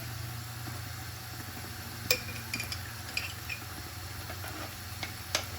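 A spoon stirring steak sauce with mustard in a pan gives scattered small metallic clinks and scrapes over a steady low hum, a few sharper taps standing out.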